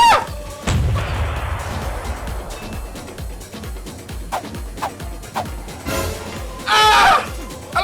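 A deep explosion in the video game Defense Derby booms early on and rumbles away, followed by sharp clicks, short pops and a loud burst near the end.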